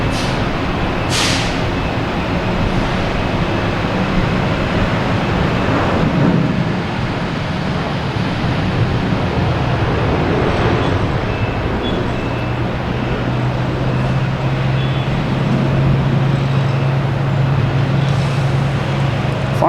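An American Airlines Boeing 737-800 takes off from the runway at Boston Logan Airport, a steady, loud, broadband engine roar that holds throughout with distant rumble and no talk.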